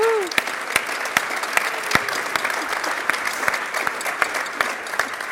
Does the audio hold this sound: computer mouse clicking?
no